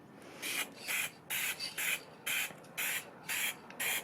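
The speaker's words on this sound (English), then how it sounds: "I'll spray one side and I'll spray the other side" An acrylic spray can mists paper in a series of short, evenly spaced hissing bursts, about eight puffs in a regular rhythm, fairly quiet and close with no voices.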